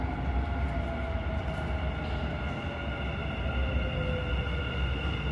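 A Dubai metro train pulls in at a station platform, a steady loud rumble with a high whine gliding downward as it slows, no talk over it.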